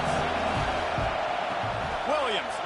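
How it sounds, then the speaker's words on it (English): A football stadium crowd roars at a Michigan game, a dense, continuous wash of noise with a commentator talking over it. "This crowd trying to make life miserable for this offense."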